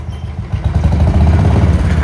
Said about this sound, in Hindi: इसमें थोड़ा ज़्यादा वाइब्रेट है यार इस बाइक में।